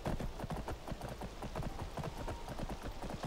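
A ridden horse's hooves clip-clop in Skyrim, a quick regular trot rhythm that stays faint beneath dense outdoor game ambience, with no voices.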